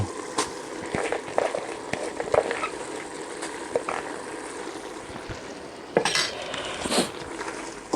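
A pan of dry-style Thai bird curry with eggplant, krachai and peppercorns is stirred, with metal utensil scrapes and clinks over a steady low sizzle, several sharper knocks standing out.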